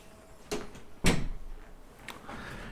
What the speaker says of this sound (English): I am going to close my door.